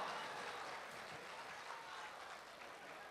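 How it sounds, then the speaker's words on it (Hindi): An audience at a Bhojpuri film event for Mahadev Ka Gorakhpur applauds the film's director with steady, faint clapping. The applause sounds distant and forms an even wash for a few seconds. "मैं इस फिल्म के डायरेक्टर के लिए एक जोरदार ताली"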